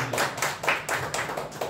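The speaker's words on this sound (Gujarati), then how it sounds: "આ ઉપક્રમને પણ આપણે જોરદાર તાળીઓ વડે વધાવી લઈએ" Audience at a poetry gathering clapping in a steady burst of applause, a moderate, continuous patter of many hands with rhythmic swells, no voices over it.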